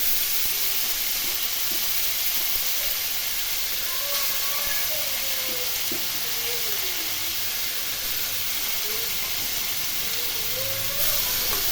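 A spice paste of cumin, coriander and chilli sizzles loudly in a pan with fried panch phoron while fish curry is cooked, a constant close hiss throughout.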